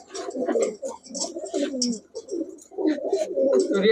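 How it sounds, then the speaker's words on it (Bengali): Giribaz pigeons in a loft coo close by, a run of soft, throaty rolling calls in overlapping bursts with brief pauses between them. "এই হচ্ছে পাঁচ জোড়া কবুতর"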